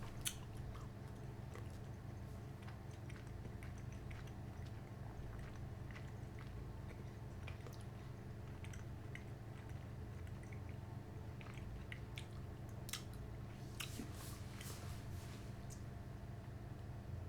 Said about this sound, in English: Technically, I should be able to chew the cherry off, but I'm wondering if the gum will chew off at the same rate.